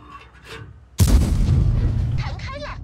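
A tank cannon firing an APCR shell in the World of Tanks video game, from a WZ-132-1 tank: one loud, sudden blast followed by a rumbling tail that slowly fades, after quiet game sounds.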